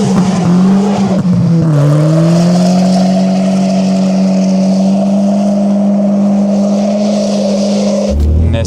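A car drifts on a frozen lake, its engine droning loud and close at high revs. The pitch dips briefly before it holds a steady, sustained whine, then cuts off abruptly near the end.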